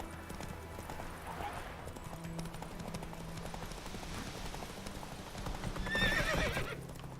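Roach, the witcher's horse in The Witcher 3, clip-clops along with steady hoofbeats and then whinnies loudly near the end, heard over low ambient game background.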